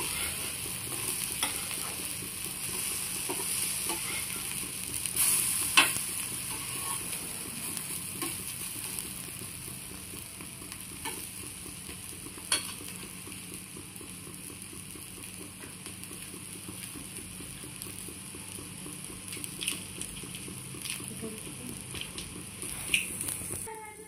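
Chicken tawa kebab, made village-style in the Marathi manner, being stir-fried on a hot griddle: a continuous soft sizzle with scattered clicks and scrapes of a spatula throughout.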